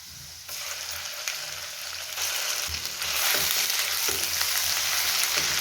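Ginger garlic paste, two spoons, frying in oil with browned onions for a fish curry, a steady loud sizzle that swells partway through, with occasional stirring clinks and scrapes and no talking.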